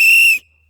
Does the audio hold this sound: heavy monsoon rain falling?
no